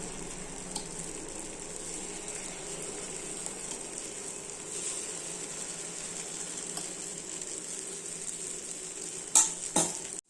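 Millet paniyaram batter sizzles in the hot wells of a paniyaram pan with a soft, continuous frying hiss, and a couple of sharp metallic clinks near the end.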